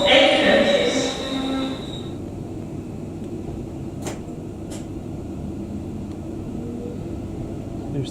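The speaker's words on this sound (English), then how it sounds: "This train is full of 8 coaches." Class 350 eight-coach passenger train at a station: a tonal whine rings out for the first two seconds, then a steady, moderately loud rumble carries on alone.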